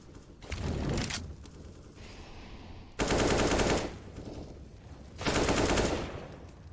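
AK rifle fire in the Counter-Strike game on the Inferno map comes as three rapid automatic bursts, each lasting about a second, loud and close, with quieter game noise between them.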